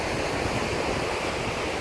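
Waves washing onto a beach in Israel on a rest day, a loud, steady, close rush of surf with some wind noise and no talking.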